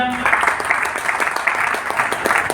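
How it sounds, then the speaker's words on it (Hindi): Audience at a life-coaching training seminar applauding themselves, a dense, steady wash of many hands clapping together for a couple of seconds, fairly loud and close. "तो एक बार फिर से अपने लिए तालियां"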